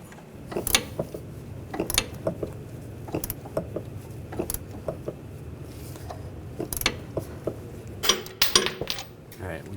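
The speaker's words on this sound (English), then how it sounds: "we're going to use an 18mm wrench on the nut" A wrench works a nut on the front strut mount stud of a 2009-2017 Volkswagen Tiguan, giving a series of sharp metallic clicks and clanks at irregular intervals with a busier cluster near the end, close by.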